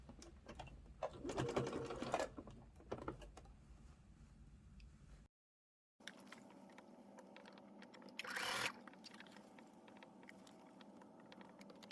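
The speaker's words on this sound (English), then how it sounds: "carefully stitching rest of the opening" A sewing machine stitches fabric for a teddy bear, its quiet, steady mechanical whir running in short runs with a brief silent pause partway through.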